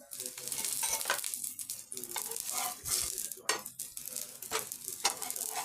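Bread and vegetable cutlet frying in ghee on a dosa tawa, a steady close sizzle broken by several scraping stirs and clinks of a spatula.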